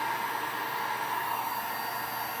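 A heat gun blows a steady, even rush of hot air close by while heating HTV vinyl on a stainless steel tumbler, a constant hiss with no pauses or voices.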